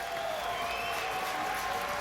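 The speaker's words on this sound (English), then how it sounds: "Crowd" Boxing arena crowd during a pro bout clapping in a steady, dense wash of applause, moderately distant and sustained with murmuring throughout.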